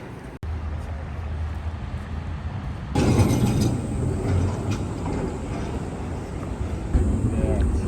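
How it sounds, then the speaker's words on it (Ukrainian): Prague tram ride with a steady low rumble of rolling wheels and interior noise, growing louder and brighter partway through as the tram moves, continuous and close throughout. "Вирішили прокататись на трамвайчику."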